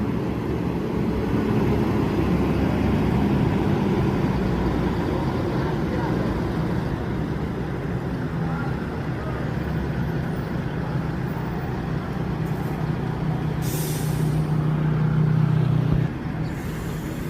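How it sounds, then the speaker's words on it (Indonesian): A Volvo-chassis Al Hijrah sleeper bus with a Laksana SR3 body idles and rumbles nearby at a bus terminal, a loud steady engine drone with broad road and traffic noise, and people talking beneath it. "Dua unit bus dari Sumatera, satu Al Ijra dengan sleeper pakai bodi Laksana SR3"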